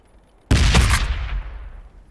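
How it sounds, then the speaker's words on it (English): A single loud explosive blast from a grenade in the strategy game Warhammer 40k: Battlesector, with a sharp onset and a rumbling tail that decays over about a second and a half. "Throwing grenade!"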